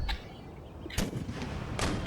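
Mortars fire in an Empire Total War battle (Darthmod), with three sharp booming reports spaced roughly a second apart over a low battlefield rumble.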